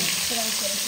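A fish head sizzles in plenty of hot oil in a home kitchen, a loud, dense, continuous crackle and hiss that fills the brief moment close up.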